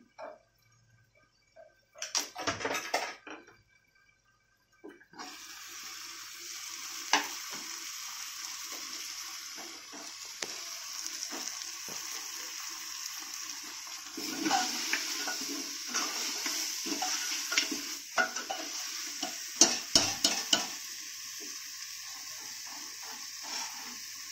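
Roasted millet flour mixed with water is stirred into a spicy Marathi-style mutton curry frying in a pan, with a steady hiss of sizzling and scraping stirs after a brief pause near the start.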